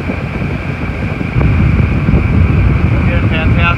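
A Mirrocraft 167 Troller boat powered by a 40hp Tohatsu outboard runs at speed on a river, its steady engine drone mixed with heavy wind buffeting on the microphone.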